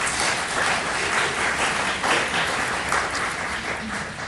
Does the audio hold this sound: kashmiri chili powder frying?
no